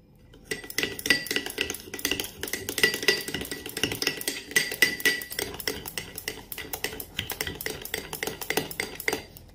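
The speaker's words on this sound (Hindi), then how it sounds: "अब इसके बाद हम इन तीनों चीजों को अच्छे से मिला लेंगे" A spoon clinks and scrapes against a bowl while three face-pack ingredients, including Colgate toothpaste, are stirred together, making a steady run of close, bright taps and chinks without any talking.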